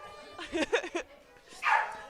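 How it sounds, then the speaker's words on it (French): A dog gives a few quick, moderately near yips or barks indoors, followed by a brief higher squeal, all fairly faint. "Cereza, au secours le chien"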